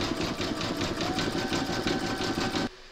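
An embroidery machine sews satin stitching around the edge of a paw design on a coaster with a fast, steady mechanical chatter. It stops abruptly near the end, leaving a quiet room.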